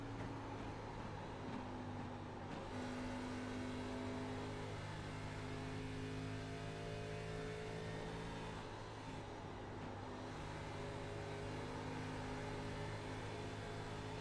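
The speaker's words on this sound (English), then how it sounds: "You can hear these drivers getting out of the gas. You can hear them working that throttle." Race car engines at Indianapolis in the iRacing game hold a steady droning whine with layered tonal harmonics, shifting slightly in pitch as throttle is eased and reapplied.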